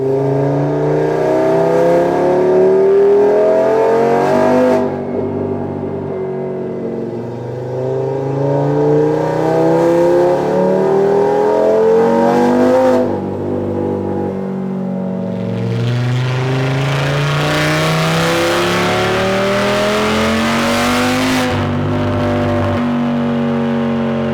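An Audi RS3 engine during break-in revs repeatedly toward 6,000 RPM, loud rising pulls that climb in pitch, drop back and climb again in several long sweeps, heard close with no talking.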